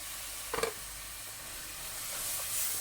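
Garlic and tomato frying in a pan with toasted spices, giving a steady soft hiss and sizzle with a brief clatter near the start, and the sizzle swelling slightly toward the end.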